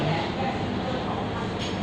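A train on the northern line pulls into a station in Thailand, a loud, dense rumble and hiss of the arriving cars filling the whole moment, with a voice faintly present underneath.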